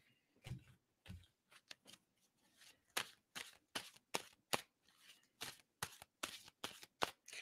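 Tarot cards are shuffled again and again, giving a quick series of crisp riffling snaps and flutters, near but quiet, with no voices.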